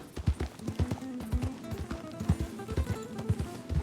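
Donkey hooves in a video game clip-clop in a steady, quick rhythm, close and distinct, with no voices over them.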